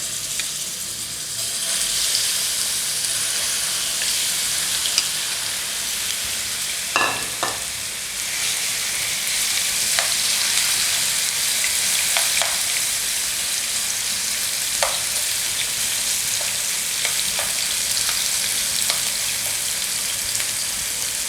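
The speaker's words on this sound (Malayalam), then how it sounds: "ഈ രീതിയിൽ നമുക്ക് ചിക്കൻ ഫ്രൈ ചെയ്തെടുക്കാം." Chicken pieces shallow-frying in a little hot oil in a pan, a steady loud sizzle and hiss throughout, with a few brief clinks of stirring, close up and without talk.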